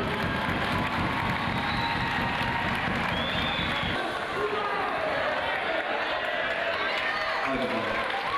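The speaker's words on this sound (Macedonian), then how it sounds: "Уште еднаш аплауз за Владе Дивац." Sustained applause and crowd noise fill a basketball tournament final, with the steady clapping of a large audience going on throughout and cheering rising over it.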